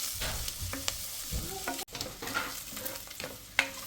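Spices fry and are stirred in a pan, a soft crackling sizzle broken by scraping strokes and occasional clinks of a utensil against the pan, close and fairly quiet with no talking.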